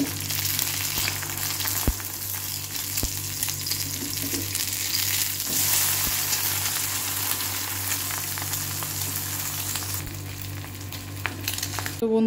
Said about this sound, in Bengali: এটাকে খুব ভালো করে ভাজি।